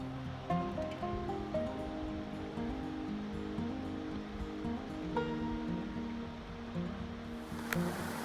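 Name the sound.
water flowing under a suspension bridge in a gorge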